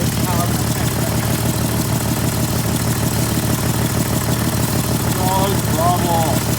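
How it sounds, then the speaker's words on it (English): A high-mileage Jeep 4.0 engine idles steadily up close with a leaking exhaust manifold and faint rocker tapping; a continuous low rumble runs throughout, with a voice talking over it. "you can hear, I have nice exhaust leak. Also, you can hear the rockers a little bit."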